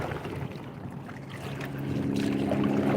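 Wind rushes across the microphone while a kayak moves through lake water, with a low steady hum building toward the end.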